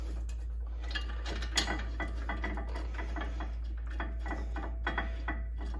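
A ratchet clicks rapidly and steadily as it snugs the brake caliper bracket bolts on a 2014 Ford Explorer Sport, with small metallic ticks over a constant low hum and no talking.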